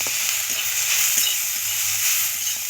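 Bitter gourd fries with spices while being stirred continuously, a bright, steady hiss of sizzling oil over faint, irregular scraping strokes, close and with no speech.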